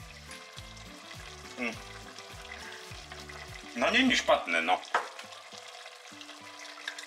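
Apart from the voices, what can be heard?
food frying and being stirred in a pan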